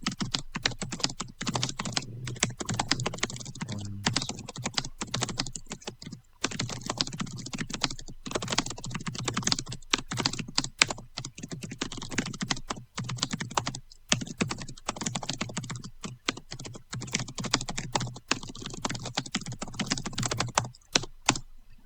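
Fast typing on a computer keyboard, a dense irregular patter of close key clicks with brief pauses between bursts, alone in a quiet room.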